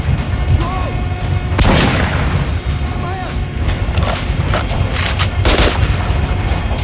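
Gunfire rings out on a shooting range in the video game Metro Last Light Redux as a headshot is tried: a sharp boom followed by several more loud shots at irregular intervals, with a voice talking in between.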